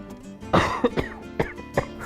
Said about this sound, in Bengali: আমার কাশিটা তো কিছুতেই ভালো হচ্ছে না